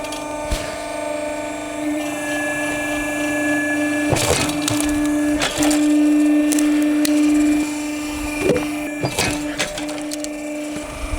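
A firewood processing machine runs with a steady mechanical hum and tonal whine, broken by loud cracking and splitting bursts of wood, heard close without talk.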